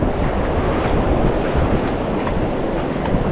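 Ocean surf surges and washes strongly on a beach at Lido and Longboat Keys after a storm, with rising tide and flooding. It forms a loud, continuous roar mixed with heavy wind buffeting the microphone, and no voices.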